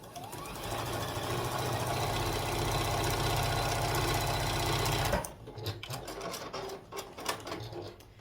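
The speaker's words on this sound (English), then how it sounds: "So after I get this sewn together, I will grab the bunting block and sew it." A sewing machine stitching quilt blocks together for a bunting quilt block runs in a steady, loud, rapid motor whir for about five seconds, then stops, leaving quieter handling clicks and rustles.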